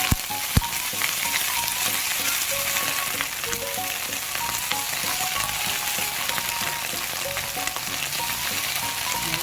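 Vegetables and sunflower sprouts stir-frying with chili in a hot pan, a loud continuous sizzle with scraping stirs and a sharp clack early on, no voices.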